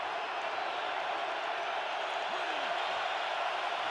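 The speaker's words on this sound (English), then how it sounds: "Crowd in full throat." A loud football stadium crowd roars at a Detroit Lions home game against the Green Bay Packers on third down, a steady, dense wall of noise that holds throughout.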